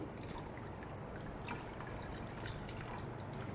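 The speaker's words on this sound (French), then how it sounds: "Nous y ajoutons le lait caillé," Curdled milk, already sieved, trickles and pours steadily into cow's-milk porridge in Chadian home cooking, a soft continuous liquid sound heard close up and quiet.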